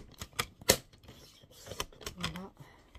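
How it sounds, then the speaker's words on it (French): Scissors snip off excess tape in a scrapbooking craft, giving several sharp, close clicks and cuts at an uneven pace. "On va découper le surplus du scotch."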